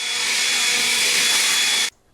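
A loud, steady rush of blown air roars for about two seconds, blowing loose dirt and grass off a lawnmower, then cuts off abruptly, leaving near silence.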